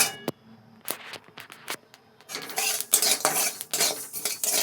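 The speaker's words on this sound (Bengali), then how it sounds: "আমি এমনি খোলায় কালো জিরাটা ভেজে নিচ্ছি" Black cumin seeds are dry-roasted in a pan and stirred, giving a string of sharp scraping clinks and metal-on-pan clatter that turns into a denser rattling and sizzling swish in the second half.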